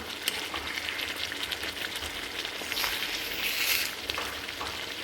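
Three fish coated in masala fry on a hot tawa in a Mangalore-style tava fry, giving a close, steady, crackling sizzle that swells slightly toward the end with no one talking.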